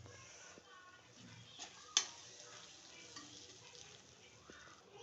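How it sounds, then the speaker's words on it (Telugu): Cooked rice is gently folded into tomato rice in a pan, giving a quiet, faint sizzle with soft scraping stirs and one sharp utensil clink near the middle, with a voice heard faintly in the background. "ఇప్పుడు రైస్ కలుపుకుందామండి."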